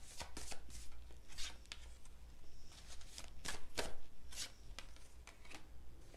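Tarot cards are shuffled in a series of quick, crisp riffling bursts with short pauses between them, close and fairly quiet, with no speech.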